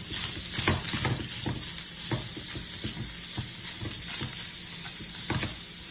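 Chicken with pepper frying in a pan, with a steady sizzling hiss under repeated soft scraping strokes of a spoon as it is stirred, close and continuous.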